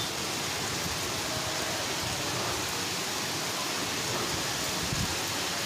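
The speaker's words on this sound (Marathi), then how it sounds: "मुसळधार पाऊस सध्या बरसतोय" Heavy downpour in Nagpur flooding a school playground, a steady dense hiss of rain with no breaks, even and fairly loud, and no voices.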